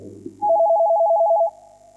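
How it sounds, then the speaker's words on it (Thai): A telephone rings once, a loud electronic warble that holds steady for about a second, then stops and leaves a faint fading tone. A brief low murmur comes just before it. "ขอรับสายโทรศัพท์ก่อนฮัลโหล"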